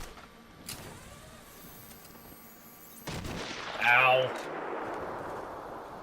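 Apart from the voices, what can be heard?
sniper gunfire in the video game Batman Arkham Asylum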